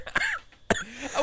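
A man coughs twice, short and sharp, after swallowing spicy jerky, close up with a brief pause between the coughs.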